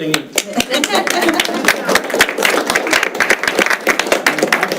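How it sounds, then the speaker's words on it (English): Board members and staff at a special called school district board meeting give a round of applause, dense clapping mixed with talking voices, loud and close throughout. "round of applause"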